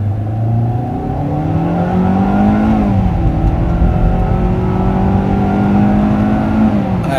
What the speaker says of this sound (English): Let's try the acceleration and go.